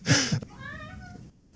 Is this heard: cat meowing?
yes